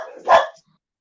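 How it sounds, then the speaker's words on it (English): A house dog gives a single sharp bark at the door, loud and close, preceded by a faint rumble and followed by silence. "the dogs were thinking they needed to bark at the door open"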